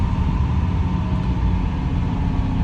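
A BMW X5 with a 235 hp engine holds a steady, loud, droning engine roar under load during a brake dyno run, continuous and unbroken throughout, with no talking.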